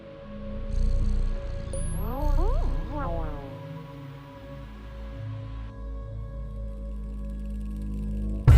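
A cat meowing in the video game Stray, with a few short rising and falling mews over a steady low ambient drone and soft game tones.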